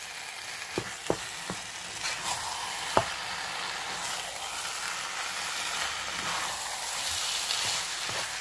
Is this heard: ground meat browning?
yes